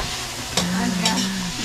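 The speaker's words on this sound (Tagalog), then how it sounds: "Ginisa na po ng dalawa." Kikiam sautéing in a pan for pancit bato, a continuous close hiss of frying with a utensil scraping and stirring through it.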